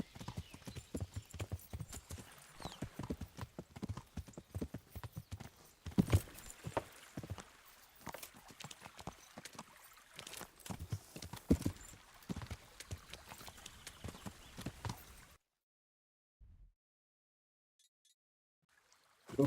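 Horse hooves clip-clop steadily at a walking pace in the medieval game Kingdom Come: Deliverance, with an overloaded horse, close and fairly loud, continuing for about fifteen seconds before dropping to near silence.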